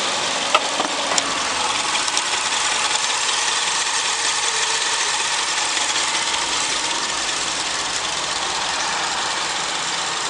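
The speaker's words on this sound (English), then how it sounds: "The EJ20 2-litre engine." A 2007 Subaru Impreza with the EJ20 2.0 litre engine idles at an auto parts yard, a close, steady and even hum that runs unbroken with no voices.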